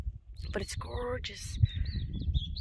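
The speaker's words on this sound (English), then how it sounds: "Birds are really cool." Birds chirp in short, bright calls in the open countryside of the Bardenas Reales desert, a few clear notes sounding nearby while a person speaks over them.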